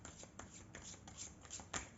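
Close rustling card sounds from a tarot deck being handled, with a few soft scrapes and flicks as a card is drawn, quiet and alone.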